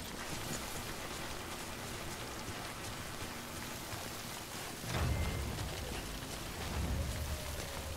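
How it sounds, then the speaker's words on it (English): Steady rain (timefall) in the video game Death Stranding: a dense, even hiss of falling drops, with a low rumbling swell about two thirds of the way through and no voices. "Don't stay out in the rain any longer than you have to."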